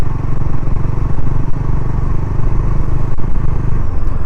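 Motorcycle engine rumbling steadily and loudly throughout while riding, close and continuous with a faint clatter, no talk.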